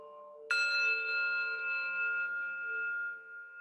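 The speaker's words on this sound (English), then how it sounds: "it's also highlighting the chimes from the phone" Chimes play from a phone speaker: a clean bell-like tone strikes once and rings on with a long, smooth sustain, then slowly fades, alone in a quiet room.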